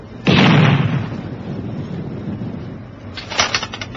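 A naval gun fires a shot at a target at sea, a loud sudden blast with a broad rumbling tail that fades over about a second, followed later by a shorter burst of crackling noise.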